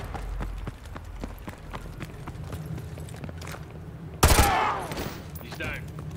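A single sharp gunshot cracks loudly partway through a Call of Duty Modern Warfare 2 Remastered mission, aimed at a target's leg. Quieter game ambience, footsteps and faint voices run beneath it, and the shot's echo trails off afterward.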